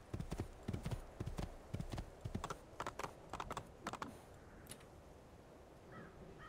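A horse clip-clops rapidly in Assassin's Creed 2, quick rhythmic hoof strikes in clustered bursts for several seconds before fading to quiet, with faint bird caws.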